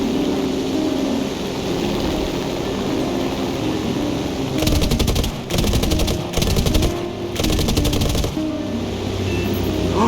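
Machine gun fire in the War Thunder prop-tier air battle game, four sustained rapid bursts separated by short gaps over a steady engine drone, loud and close.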